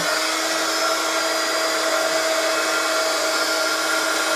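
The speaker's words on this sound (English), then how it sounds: "So I'm just going to heat my heat gun up and just put your hands over your ears a little bit if it's too loud." A heat gun blows hot air in one continuous loud, close whine with a steady high hiss and no pauses or talk.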